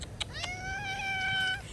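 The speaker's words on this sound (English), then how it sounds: "Sumusunod sa akin yung pusa." A stray cat meows once in a long, drawn-out cry that rises and then holds steady, heard fairly close outdoors over light background noise.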